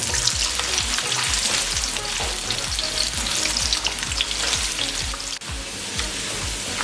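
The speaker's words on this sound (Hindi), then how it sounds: "अब इसमें प्याज डालेंगे, इसको लाइट गोल्डन होने तक फ्राई करेंगे।" One large onion frying in hot oil in a pan, a dense, continuous crackling sizzle with rapid popping, loud and close, with no talking.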